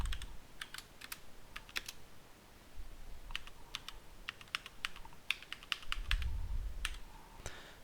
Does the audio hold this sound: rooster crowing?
no